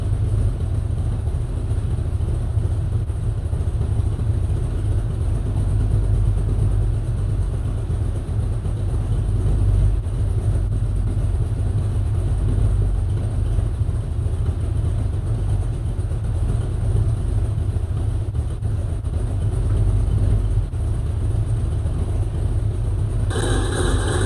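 Carbureted car engine idling steadily at about 1,000 RPM, a continuous low rumble that stays even and fairly loud throughout with no talk over it.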